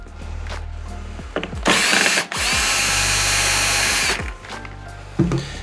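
A power drill unfastens the mounting clamps on an AC Infinity Cloudline T-Series inline fan, loud steady whirring bursts with ratcheting clicks between runs, close and alone.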